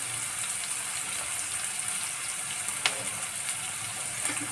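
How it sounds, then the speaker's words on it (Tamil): Onions sautéing in a pan for ragi kara semiya, a soft, continuous sizzling hiss at moderate volume with one faint clink partway through and no talking. "வெங்காயம் நல்லா வதங்கட்டும்."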